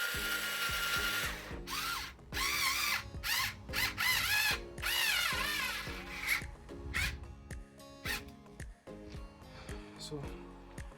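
A power tool tightens a part on an e-scooter during a repair, with bursts of whirring, ratcheting and tapping that stop and start, close and fairly loud.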